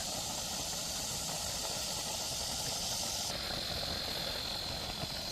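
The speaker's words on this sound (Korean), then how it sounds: "잘 끓고 있는데" Ramen soup with seafood, green onion and chili boils in a pot, giving a steady close hiss and bubbling at low volume that holds unbroken throughout.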